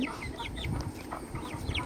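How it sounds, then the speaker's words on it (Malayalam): Several small native chicken chicks chirp in short, scattered peeps, faint and somewhat distant, over a low background hum. "ഈ നാടൻ കോഴിക്കുഞ്ഞുങ്ങൾ വിൽപ്പനയ്ക്ക് നിർത്തിയിരിക്കുന്നതാണ്"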